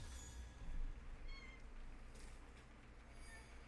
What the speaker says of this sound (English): My cat is asking for attention.